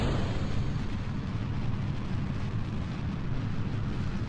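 Rocket engines roar at launch in Kerbal Space Program, a dense, steady, loud rumble filling the whole stretch without breaks.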